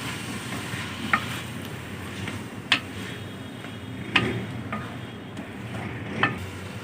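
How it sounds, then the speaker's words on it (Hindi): Potatoes fry in a pan for aloo keema, giving a steady low sizzle with a few sharp clicks of a utensil striking the pan at irregular intervals, close and fairly loud, with no talking. "आलूओं को भी अच्छी तरह फ्राई कर लेंगे।"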